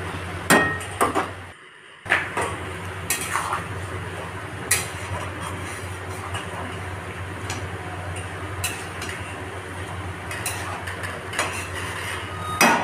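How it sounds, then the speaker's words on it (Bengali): A spoon knocks and scrapes against a pot while potato curry with peas is stirred after water is added, producing sharp intermittent clanks over a steady low simmering background. "জল দিয়ে ভালো করে নাড়াচাড়া করে"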